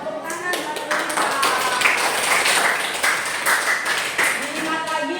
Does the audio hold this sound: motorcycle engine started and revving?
no